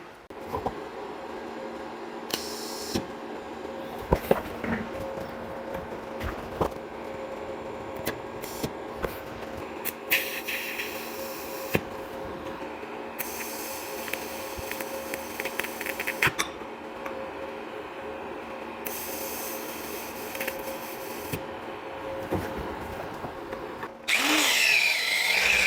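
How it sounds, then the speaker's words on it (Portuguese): A Lynus LIM 160 Power welder TIG-welds a small tube, giving a steady, close buzzing hum with a thin electrical whine that runs without a break. It grows louder and harsher near the end. "Vou fazer uma soldinha nesse tubinho para vocês verem aí como que é"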